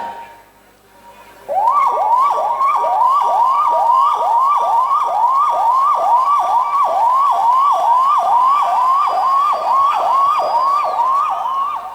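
A voice imitates a 108 ambulance siren: a rapid rising whoop repeated steadily about twenty times, loud and close, after a brief quiet start.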